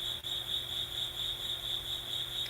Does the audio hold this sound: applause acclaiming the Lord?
no